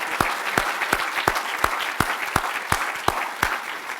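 At a legislative breakfast a small audience gives a round of applause, heard as crisp, evenly spaced claps in a steady rhythm over a soft bed of quieter hands, close and moderately loud.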